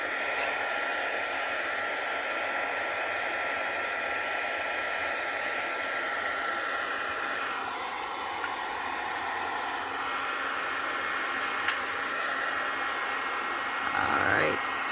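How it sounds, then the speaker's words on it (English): A heat gun blows hot air in a steady, continuous roar for the whole stretch, close and fairly loud, ending with a brief rising whine near the end. "I'm going to turn on the heat gun again and try to keep that towards the middle."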